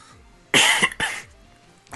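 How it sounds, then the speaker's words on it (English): A man with a hoarse voice, still recovering from illness, gives a couple of quick, harsh coughs close to the microphone, followed by a faint throat sound. "Sorry, needed a cough."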